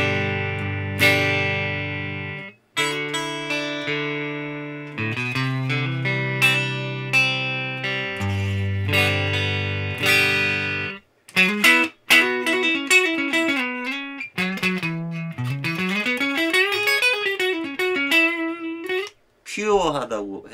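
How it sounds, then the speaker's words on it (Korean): Clean electric guitar through a Line 6 HX Stomp modeling a US Deluxe Vib amp with reverb off, playing chords and melodic lines with string bends and slides, loud and dry with brief pauses between phrases. "리버브까지 다 닫고 그냥 앰프만 들었을 때."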